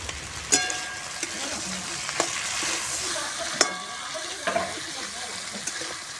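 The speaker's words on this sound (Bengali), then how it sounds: "আলুটা ভাজা হয়ে গেছে ভালোভাবে, বেশ লাল লাল করে ভেজেছি" Potatoes with turmeric frying in a pan over a wood-fired stove in a village kitchen, giving a steady close sizzle broken by sharp scraping clicks as the spatula stirs.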